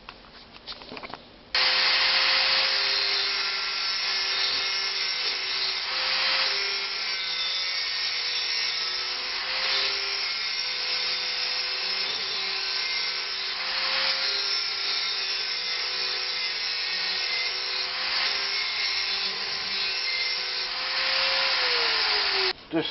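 Ride-on mower blade being sharpened: a steady, loud grinding whir holds almost unbroken for about twenty seconds after an abrupt start, close by and without talk.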